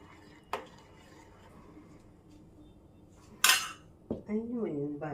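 Dessert mixture being stirred in a pan, with a sharp metallic clink of a utensil against the pan, a louder scrape and clatter midway, then a voice speaking near the end over the quiet kitchen background.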